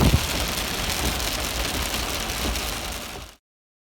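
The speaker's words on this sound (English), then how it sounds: "It's starting to rain on us." Steady rain patters densely on a surface, a constant wash of hiss and drops that cuts off abruptly near the end.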